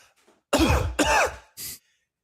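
A voice imitates a fart with two drawn-out, sputtering blasts followed by a short, breathy burst, close and fairly loud.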